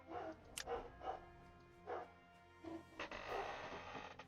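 Dogs barking at a front door, heard as several separate sharp barks spaced irregularly, moderately loud and fairly close, with quiet pauses between them.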